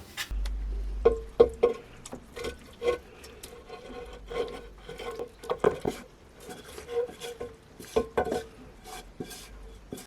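Pickled cabbage goes into a clay baking pot with close, irregular handling noises: soft rustling and squelching mixed with scattered clinks and scrapes against the pot, coming in bursts separated by short pauses.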